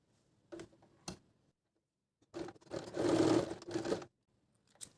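A sewing machine stitching fabric along a chalk-marked crease line for a palazzo, in short bursts: two brief clicks, then a longer run of rapid close stitching, then silence.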